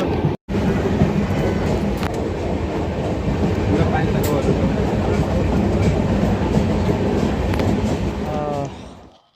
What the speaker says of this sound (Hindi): अभी ट्रेन में है